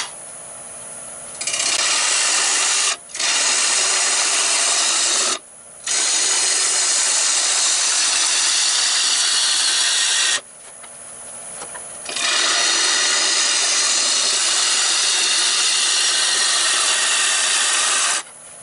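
Wood lathe spinning at just under 1,000 RPM while a tool roughs out a wooden bowl, a loud continuous scraping cutting roar broken by a few brief stops and starts.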